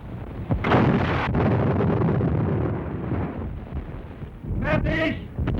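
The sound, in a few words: tank gun firing a shot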